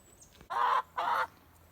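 Two loud, harsh squawks from hens, each about a third of a second, close by with a short gap between them.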